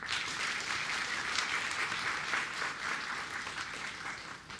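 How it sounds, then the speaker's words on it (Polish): An audience at an award ceremony gives steady, sustained applause. Dense even clapping from many hands holds for several seconds and eases slightly at the end, with no speech over it. "Jeszcze raz proszę o wielkie, gromkie brawa."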